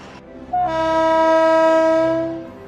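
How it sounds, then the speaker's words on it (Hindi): A coal-laden freight train rolls along the tracks near the Korba coalfield, its loud horn sounding one sustained blast over the rumble of the wagons. "पटरियों पर दौड़ती कोयले से लदी यह रेलगाड़ी देश के बिजली घरों को रोशन करने चल पड़ी।"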